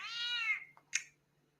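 Cats meow from the Crazy Cat Lady character in a Simpsons video game: one long, loud, drawn-out meow, then a short squeak and a sharp higher meow, alone with no talk.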